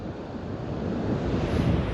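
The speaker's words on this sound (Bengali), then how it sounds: "এই হাওয়া হচ্ছে গায়ে দিয়ে বয়ে চলে যাচ্ছে।" Wind blows steadily across the seashore at Puri, a dense, continuous rush with surf mixed in, close and loud throughout without any voices.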